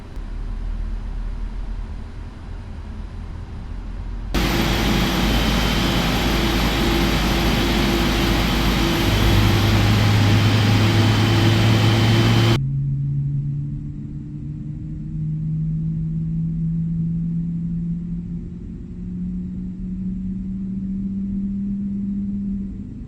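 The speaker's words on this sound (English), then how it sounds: "starting engine 1." Simulated Qatar Airways Boeing 777-300ER jet engine starting in Microsoft Flight Simulator: a steady rumbling hum jumps into a loud broadband roar and holds for several seconds. It then drops back to a lower drone as a rising whine climbs slowly.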